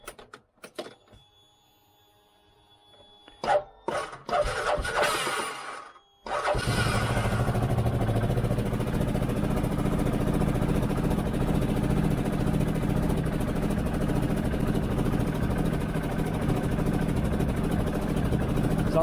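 On a 2013 CF Moto Z6 Force, a few clicks and a short sputtering attempt give way to the engine catching and running at a steady, even idle with a fuel pump hum underneath, fairly close by.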